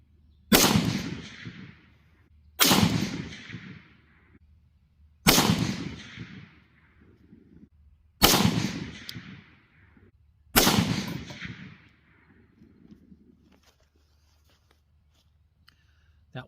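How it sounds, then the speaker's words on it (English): Five loud, evenly spaced rifle shots from an Armalite AR10 firing Federal Premium 168 grain .308 Winchester Sierra hollow point rounds, each a sharp crack with a decaying boom, followed by quiet outdoor ambience. "That was 5 rounds of Federal Premium 168 grain Sierra hollow points."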